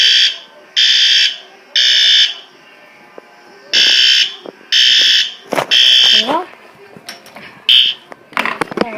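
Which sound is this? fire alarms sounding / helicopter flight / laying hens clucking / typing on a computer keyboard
fire alarms sounding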